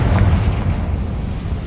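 Explosion from the Confringo fire spell in the PS5 game Hogwarts Legacy, a loud, deep rumbling boom that fills the moment and slowly fades.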